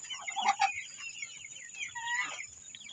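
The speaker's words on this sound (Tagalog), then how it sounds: "Ayan yung native chicken natin" Native chickens and Rhode Island Red hens cluck and squawk in short bursts in a small backyard farm, fairly faint and close by, over a steady high insect-like hum.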